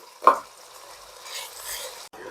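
Onion sautéing in a pan for a Kochi-style liver curry: a single knock of a utensil, then a soft, steady sizzle close by.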